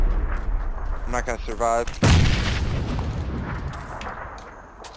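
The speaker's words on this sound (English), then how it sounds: "I hear nades on the other side of this wall, guys" A loud grenade blast bursts out in a first-person shooter game, a heavy boom that then rolls off into a long fading rumble, following a stretch of busy gunfire and radio-like chatter while a player talks over it.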